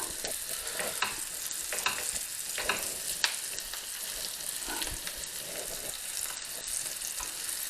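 Flour-dredged cucumber slices sizzle steadily in a hot pan, a constant crackling hiss with occasional louder pops and light scraping.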